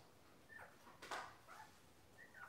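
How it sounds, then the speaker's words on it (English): Alaskan Klee Kai puppies give several short, faint, high yips and whimpery barks spaced over a couple of seconds in a quiet indoor setting. "They're barking at the neighbors, I think."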